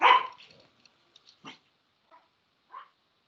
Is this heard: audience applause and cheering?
no